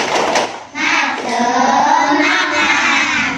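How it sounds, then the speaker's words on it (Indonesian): An Indonesian primary classroom does a spirited clap-cheer together, with loud, close group clapping and children's voices chanting in unison, the noise dipping briefly and then holding strong. "Tepuk semangat dulu."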